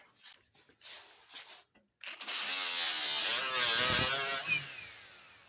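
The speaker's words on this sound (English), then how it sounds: "we're going to use a 60 grit flap disc followed up with a little 3-inch orbital dual action sander" A 60 grit flap disc and a small 3-inch orbital dual action sander working a car body panel. Soft scratching gives way to a loud, steady, high whirring grind that holds close and continuous before easing off at the end.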